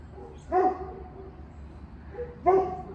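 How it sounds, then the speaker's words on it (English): Dogs bark at home in two sharp, separate bursts about two seconds apart, fairly close and loud against a quiet room background. "now I have 2 dogs barking"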